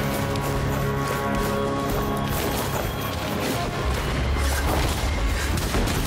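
A beam weapon firing in the video game Foregone, a loud, continuous roaring blast that holds steady for several seconds with crackling, crashing texture and no pauses.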